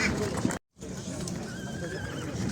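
Horses at the Sokuluk livestock market in Kyrgyzstan; a nearby whinny rises over a bustle of voices and crowd noise, which briefly drop out before continuing.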